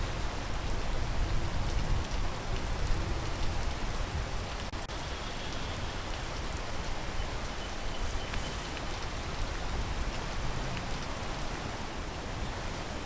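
Steady rainfall patters down continuously, a dense even hiss of drops on surfaces with no break, moderately quiet and heard alone without any voices.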